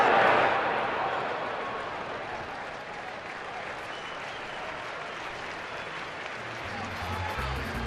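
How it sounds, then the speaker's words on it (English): Crowd at a major league baseball game applauding a batter's first at bat, a broad, moderately distant wash of clapping and cheering that swells at the start, eases off, then rises again. "It's a nice round of applause for his first at bat at the major league level."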